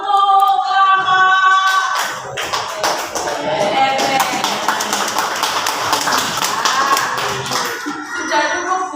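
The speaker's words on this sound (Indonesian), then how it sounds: "Tepuk tangan untuk kelompok" A class claps for a student group in a classroom, a dense burst of hand claps that starts strong, dips briefly, then carries on steadily for several seconds with a little talk mixed in.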